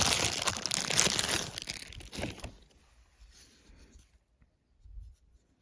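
Crinkling and rustling of cellophane wrapping as an Ontario RAT 1 knife box is unpacked, busy close handling for about two seconds, then quieter scattered rustles and a soft thump near the end.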